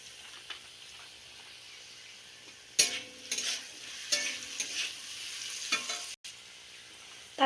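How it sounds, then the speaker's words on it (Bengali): Potatoes frying in a pan for a sabudana dish, a faint steady sizzle with several louder scraping stir bursts from a spatula, close up, without talking. "আলুটাকে সুন্দর করে একটু লাল লাল করে ভেজে নেব।"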